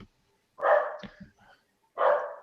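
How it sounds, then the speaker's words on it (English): Several dogs bark in short, loud bursts, two strong barks about a second and a half apart with a few softer yips between them, close by and with no talk over them. "Goddamn dogs. Shut up."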